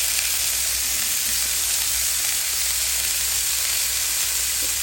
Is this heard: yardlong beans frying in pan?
yes